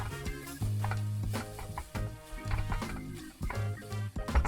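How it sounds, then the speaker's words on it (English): Tomato paste stirred and cooking in a pan for macaroni and cheese, with a spoon scraping and knocking against the pan in irregular strokes over a soft sizzle, close and moderately loud, alongside steady background music. "Now add 4 tablespoons of tomato paste. Stir and let it cook for 3 minutes."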